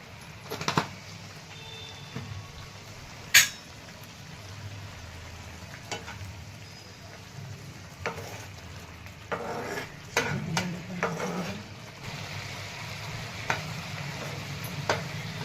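Bhagar cooking in a pan with a low, steady simmering sizzle, broken by occasional clinks and scrapes of stirring, close but mostly quiet, no talking.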